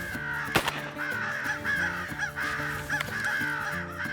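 Crows cawing repeatedly during a crow hunt on public land in Kentucky. Several harsh calls overlap in an almost continuous loud chorus, with a sharp crack partway through.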